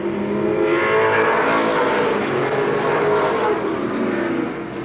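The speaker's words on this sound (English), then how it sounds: "As Bobby Tripp in the 50 gets around Caparco" Pro stock race cars roar around the Seekonk Speedway oval in a 1992 heat race, loud sustained engine drone with shifting pitch as cars pass close by, continuous throughout.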